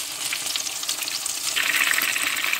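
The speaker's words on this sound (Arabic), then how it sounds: "هاهو كيطيب بالزربة و كيطيب بالطغية، حيت ديجا أنا كنت سخنت الزيت" Breaded chicken breast fries in hot oil with a loud, dense, continuous sizzle that swells and grows brighter partway through, close up and with no talking.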